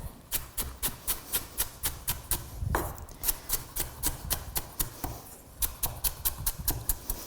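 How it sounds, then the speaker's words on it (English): A knife chopping a vegetable into fine strips on a cutting board, a fast steady run of crisp, evenly spaced taps with a brief pause midway, close and clear. "And then you can cut those into fine strips"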